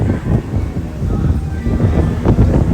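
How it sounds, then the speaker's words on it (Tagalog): Strong wind on the Gold Coast, Australia, buffets the microphone with a continuous low rumble and gusts throughout, loud and close, with no clear voices. "Kasi sobrang lakas ng hangin."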